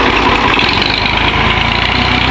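A tractor engine runs loud and close in a steady, unbroken drone, with no voices over it.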